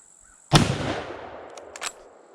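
A single .348 rifle shot firing a 165 grain FTX bullet, a sharp loud crack with a rolling echo tail outdoors, alone with no talk.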